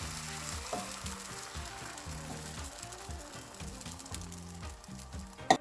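An egg frying in avocado oil in a pan for homemade McGriddles, a steady close sizzle with faint clicks and scrapes, ending in a sharp knock.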